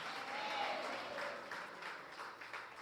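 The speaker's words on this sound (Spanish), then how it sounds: "Y usted es bien valiente para aplaudir" A church congregation applauds together in a sustained, moderately distant burst of clapping that swells and then holds steady with uneven pulses.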